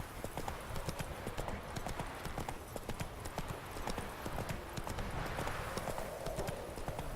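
Hooves of Roach, the horse in The Witcher 3, clip-clop in a steady, fast galloping rhythm, close and loud throughout over a dense game soundscape, with faint voices mixed in.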